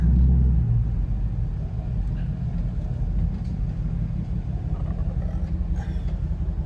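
An SRT Jeep rolls up to a gas pump, its engine a steady low rumble and idle throughout, close and fairly loud, with no talk over it.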